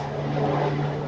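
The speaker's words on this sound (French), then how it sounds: "je sais que c'est un avion qui ne va pas s'écraser sur moi" A propeller airplane drones steadily overhead, a continuous engine hum with a strong low tone, fairly loud for the short moment.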